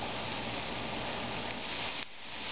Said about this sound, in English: you can hear it sizzling, making the sofrito